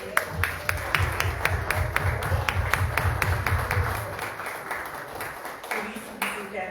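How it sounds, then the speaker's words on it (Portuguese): A church congregation claps in rhythm, steady evenly spaced claps that grow into looser applause, with voices and talk underneath. "A salva de palmas para Jesus"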